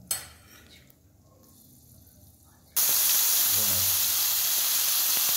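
Cardamom frying in oil over a medium flame, a quiet stretch with a few utensil clinks, then a loud steady sizzle bursts in and continues strongly to the end.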